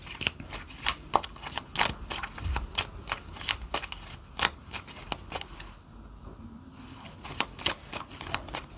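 A deck of 78 oracle cards is shuffled by hand, a rapid run of crisp riffling flicks and snaps close up, easing into a brief quieter pause before the flicking resumes.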